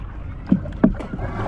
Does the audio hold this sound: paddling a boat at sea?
yes